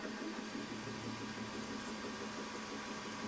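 A machine reams a quarter-inch hole at 300 RPM while a small steam engine is built, giving a steady, even mechanical hum and whir that runs unbroken throughout with no talk.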